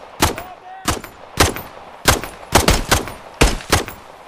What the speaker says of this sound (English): Use my pistol for this.